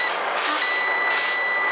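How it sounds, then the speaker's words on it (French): A truck's air brake low-pressure warning buzzer sounds in a steady, continuous electronic tone with pulsing hiss of air behind it, loud and close inside the cab during a brake check. "On pompe les freins jusqu'à l'avertisseur de basse pression."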